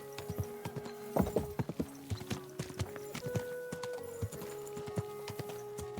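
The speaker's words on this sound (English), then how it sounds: "Easy, good horse." Horse hooves clip-clop in Kingdom Come Deliverance 2, a steady sequence of sharp, close hoof strikes with one louder cluster partway through, set against quiet game ambience.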